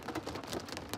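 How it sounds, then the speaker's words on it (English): Rain drumming steadily on a Rivian R1S electric SUV set up for overnight camping, a dense, even patter close overhead with no voices. "This is the sound of the rain beating down on us"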